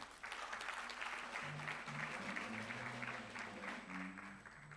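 Audience applause at the Kenya Diplomatic Awards, a soft continuous patter of clapping in a hall, fairly faint and distant, with tonal sounds drifting underneath.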